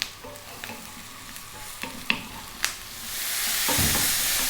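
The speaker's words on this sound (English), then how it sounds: "So you can hear the moisture coming from the mushrooms." Mushrooms sizzle and crackle in a hot frying pan as a utensil stirs them, with scraping taps near the mic and a rising hiss of frying toward the end.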